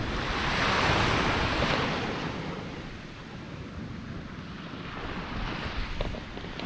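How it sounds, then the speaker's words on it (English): Sea waves wash onto the beach at Skegness on the Lincolnshire coast, a broad continuous rush of surf swelling and easing, with wind buffeting the microphone and no voices. "Oh, that water's still coming. Got the odd wave."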